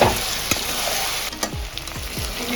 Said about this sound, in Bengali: খুলে একটু নাড়াচাড়া করবো।